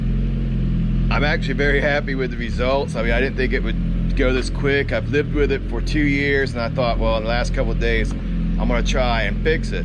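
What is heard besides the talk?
Suzuki GSXR1000R motorcycle with full exhaust idling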